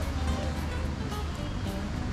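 Sea waves wash steadily against the shore beside a beach resort, a constant broadband surf rush that fills the short stretch without any clear break.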